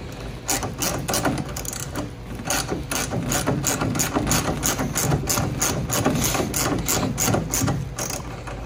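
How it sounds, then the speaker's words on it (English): A ratchet wrench on 13 and 10 mm bolts during assembly of a Venom Motorsports 125cc mini jeep, clicking in fast, steady strokes close by with no pauses. "So I just use my wrench there."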